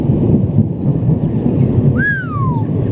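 Thunder during a severe Midwest thunderstorm rumbles loud and close, a continuous deep roll with a brief high whistle near the end, with no talking.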